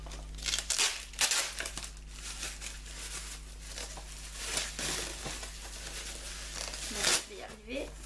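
Crinkling and tearing of tape and packaging from a taped Funko Pop parcel, scratchy bursts close up, with someone speaking softly throughout.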